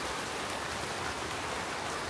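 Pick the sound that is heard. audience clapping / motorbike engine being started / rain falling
rain falling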